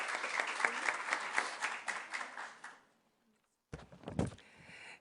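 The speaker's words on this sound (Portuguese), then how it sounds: "Vocês podem aplaudir" Applause from the audience at a municipal public hearing in João Pessoa, a brisk burst of clapping that fades out after about three seconds, followed by silence and then a short knock or thud.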